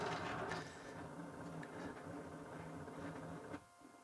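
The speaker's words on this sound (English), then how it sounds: "My printer just started. It's having a moan at me." A Bambu 3D printer starts up and runs nearby, giving a steady mechanical whir with gear-like clicks and motor tones that cut off abruptly near the end.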